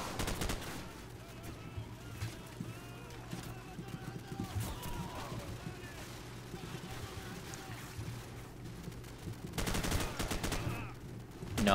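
Gunfire in Call of Duty 4: Modern Warfare comes as bursts of shots over a busy game soundscape, with a dense flurry near the start and another heavy cluster near the end and quieter stretches of ambience between.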